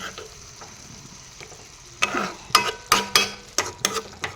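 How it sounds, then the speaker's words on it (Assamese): Fish frying in a pan with oil is turned over, making a soft sizzle that gives way to a run of sharp, close spatula scrapes and clanks against the pan over the frying hiss. "এনেদৰে লৰাই দি দিলোঁ তল ওপৰ কৰি"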